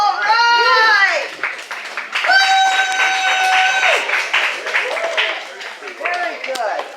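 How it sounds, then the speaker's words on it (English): Audience at an open mic applauding loudly, dense clapping with cheers and whoops over it, then easing off and picking up again near the end. "one more big round of applause for Brian"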